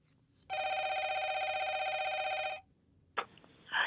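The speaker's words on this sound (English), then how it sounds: "So I'm calling Miss D in North City, who lives on this street, to help me out" An outgoing phone call gives a single long electronic ring tone of about two seconds, steady and fairly loud, then a short pause and a brief burst of handset noise.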